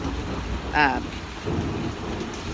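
A thunderstorm with steady rain and low rumbling thunder fills the background, with a brief voice speaking over it.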